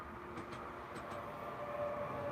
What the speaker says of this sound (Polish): Jedzie mały pociąg. Mały taki jeden.